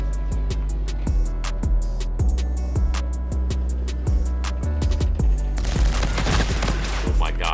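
Rapid automatic gunfire from the video game Call of Duty: Infinite Warfare, loud bursts of shots in quick succession, ending in a dense rattling barrage.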